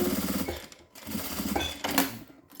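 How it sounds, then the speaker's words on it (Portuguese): Sewing machine stitching through a milk carton box for a fabric box, a fast rhythmic mechanical whir in short bursts with brief pauses between, close and clear. "Ó, aí você vai lá e costura bonitinho."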